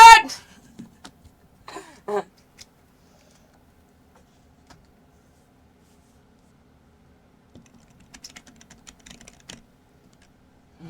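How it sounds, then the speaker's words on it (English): A computer keyboard is typed on in a brief burst of light, close clicks, with a few scattered taps and long quiet gaps in between, after a short voice at the start. "Keyboard!"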